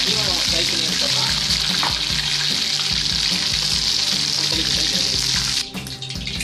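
Oyster mushrooms deep-frying in hot oil, a loud, dense, continuous bubbling sizzle that holds steady before easing off near the end, heard close up.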